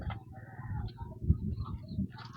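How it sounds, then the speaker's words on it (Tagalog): Pet chickens on a farm cluck and murmur softly at a distance, a low continuous background of fowl sounds with occasional sharper calls. "Nandito yung mga alaga namin na manok"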